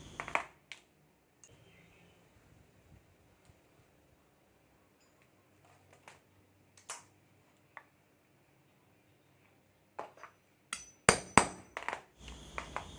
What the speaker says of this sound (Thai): สายกระเป๋าเราจะใช้เหล็กเจาะรูในการเจาะค่ะ